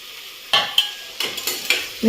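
Crushed garlic is tossed into a pan of lightly fried onions and stirred, giving a low sizzle with a series of sharp scraping and clinking spoon strokes against the pan, close and distinct.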